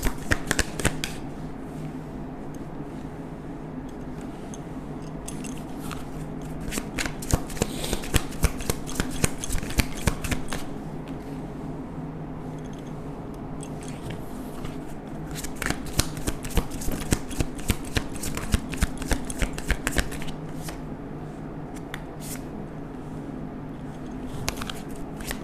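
Tarot deck being shuffled by hand, with repeated riffling bursts of crisp card flutters separated by quieter handling, close and moderately loud throughout with no talking.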